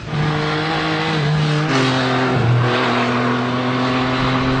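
A Ducati Hypermotard SP or MV Agusta Rivale 800cc three-cylinder motorcycle engine revs loudly and close, its pitch climbing and dropping in a couple of quick throttle blips over a steady idle.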